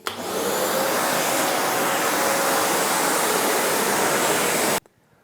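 A manual wet vacuum pulls floodwater from behind a protective barrier in a lightly flooded house, a loud, steady rushing roar that runs unbroken for nearly five seconds, then cuts off abruptly.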